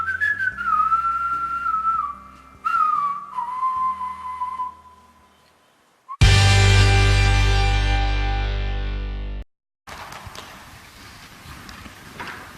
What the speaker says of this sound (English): The whistle reminded me of the Raj Kapoor movies for some time.